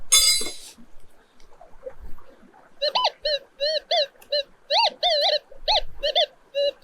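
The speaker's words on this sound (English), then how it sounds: "I want to see if the metal detector says there's something in my pan" A Minelab Gold Monster 1000 metal detector sounds over a gold pan with a series of loud, warbling electronic beeps in quick bursts, about a dozen in all, after a brief rustle and quiet handling noise.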